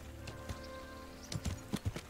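A horse gallops in the medieval game Kingdom Come: Deliverance, its hoofbeats thudding in an irregular cluster that grows louder toward the end over a faint ambient game background.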